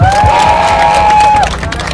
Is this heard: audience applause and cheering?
yes